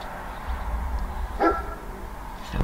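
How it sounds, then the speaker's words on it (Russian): A dog barks outside in the distance near a village street on a winter day, a few faint separate yaps over low background rumble. "Собачка лает там."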